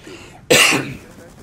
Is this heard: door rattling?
no